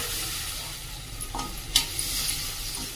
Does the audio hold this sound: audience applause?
no